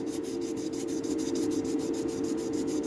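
Sanding a Dinky Toys Ford Zodiac Mk4 die-cast model, with steady rhythmic back-and-forth rubbing strokes at close range and no talking.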